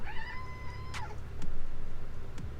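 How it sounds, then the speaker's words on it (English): A cat gives one clear, drawn-out meow close by, followed by a few faint clicks over a low background rumble. "Meow."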